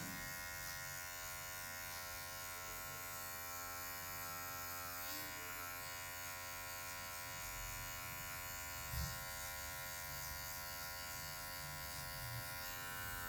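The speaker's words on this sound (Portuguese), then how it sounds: "Vou jogar na 0 baixa, somente a ponta da máquina, vou vir tirando essa marcação" An electric hair clipper hums close and continuously while cutting a fade, a steady buzzing drone with faint shifts in pitch as the blade tip moves through the hair; no talking.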